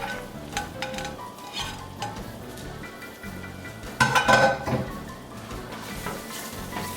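Bell peppers, onions and celery land in very hot oil for a turkey and andouille gumbo, giving a steady close sizzle and frying hiss with scattered clinks of a utensil against the pot.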